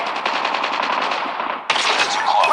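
Rapid automatic gunfire from the mobile shooter Call of Duty Mobile, a steady loud burst of closely spaced shots with a brief break near the end before firing resumes.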